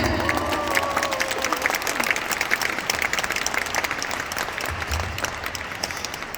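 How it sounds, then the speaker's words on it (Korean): A large audience at a LifeWave Korea corporate event claps for company leaders, a broad, sustained wash of applause with scattered cheering, steady and fairly loud throughout, with a brief voice near the start. "이분들께 큰 박수 한번 부탁드리겠습니다."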